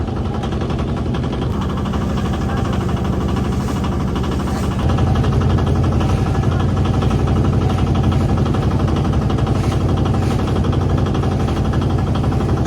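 The engine of a small passenger boat crossing the Buriganga river drones loudly and steadily, close by, and grows heavier partway through, with no talking.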